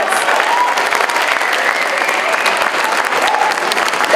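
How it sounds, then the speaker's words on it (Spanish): Audience applause for young people at an event against all forms of violence, a dense, steady wash of clapping close by that holds evenly throughout. "Fuerte los aplausos para nuestros jóvenes y nuestras chicas"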